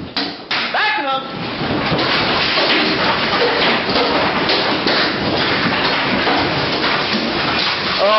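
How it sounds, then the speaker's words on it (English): Hail pounding a house in Iowa makes a loud, dense, continuous drumming and clatter with scattered heavier thuds. Excited voices shout over the din. "A hailstorm wreaks havoc on a house in Iowa."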